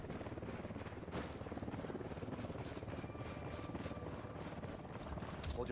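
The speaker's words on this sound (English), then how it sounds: "Chopper incoming." A helicopter approaches in the Ghost Recon Wildlands video game, a loud, steady rotor thrum with rhythmic blade chop that holds throughout, with faint voice activity partly audible underneath.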